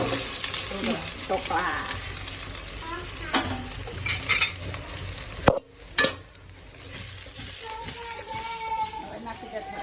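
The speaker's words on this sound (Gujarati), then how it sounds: "તેલમાં રાઈ જીરું નાખશું" Mustard seeds and cumin dropped into hot oil sizzle and crackle steadily, with utensil clinks and a sharp knock partway through, while people talk over the frying.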